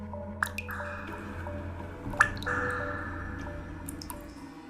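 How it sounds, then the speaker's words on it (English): Water drips in a small echoing hotel bathroom, a few distinct drops landing over a faint steady trickle and low background hum. "the dripping from the bathroom grow louder"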